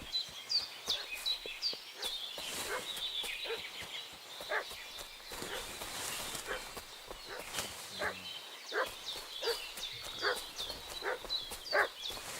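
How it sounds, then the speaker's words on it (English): A dog barks repeatedly in a video game, steady rapid barking at mid distance, mixed with bird chirps and soft footsteps in an outdoor scene. "What's that dog making such a fuss about?"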